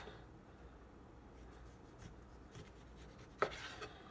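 A knife works around an orange to cut away the peel: quiet, soft scraping and rubbing, then one sharp, crisp cut near the end, with no talking.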